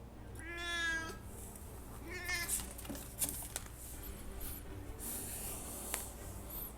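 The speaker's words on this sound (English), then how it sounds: "Okay, now we've got a cat." A cat meows twice close by, two drawn-out calls a second or so apart, with soft rustling and faint background noise in between.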